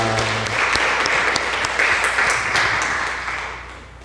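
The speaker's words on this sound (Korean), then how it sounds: "우리 박수 한번 해드려요. 찬양대 감사합니다." A church congregation applauds the choir, sustained loud clapping from many hands throughout, slowly fading toward the end, with a voice briefly heard at the start.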